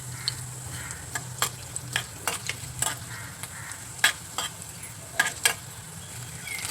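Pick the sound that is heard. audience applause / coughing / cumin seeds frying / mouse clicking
cumin seeds frying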